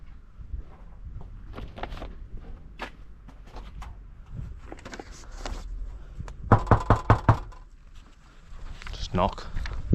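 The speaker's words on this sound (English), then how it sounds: "Just knock." Knocks land on a door during a delivery stop, a handful of sharp close raps in a quick burst, mixed with shuffling, handling noise and someone talking.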